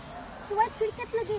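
Crickets chirp in Bicentennial Park, Clark, Pampanga, as a steady high, faint trill under close voices talking.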